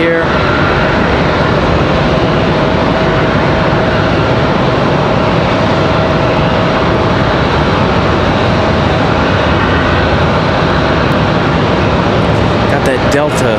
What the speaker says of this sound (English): A321 for American Airlines up and out of here